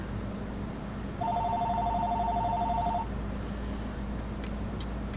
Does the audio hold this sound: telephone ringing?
yes